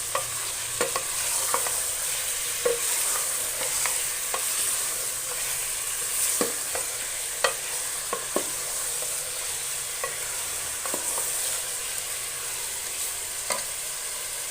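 Chicken frying in oil in a home kitchen, a steady hiss and crackle punctuated by regular knocks and scrapes of a stirring spoon against the pan, close up, with no talking.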